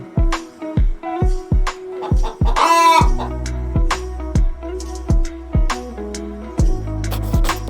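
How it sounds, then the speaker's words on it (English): A hen clucking in a steady, rhythmic series of short, loud calls repeating about every half second, broken once by a longer drawn-out crowing call, over a looping musical backing with no talk. "H for hen."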